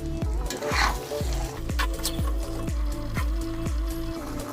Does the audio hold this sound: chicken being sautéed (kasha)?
yes